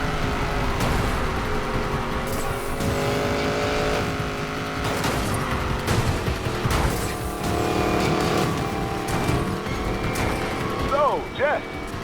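Car engine revs and tires squeal in Need for Speed Payback during a police chase, a steady racing roar with skids, under overlapping talk.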